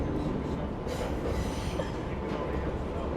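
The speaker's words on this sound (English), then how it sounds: "And then we have this subway sound here" A subway train sound effect used in a hip-hop beat: a rumbling, rattling rail roar with squealing wheel noise, steady and fairly quiet throughout.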